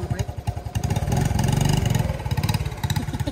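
A truck engine revving in first gear as gas is given, a loud, steady, rising drone with rhythmic pulsing that holds for several seconds, close by.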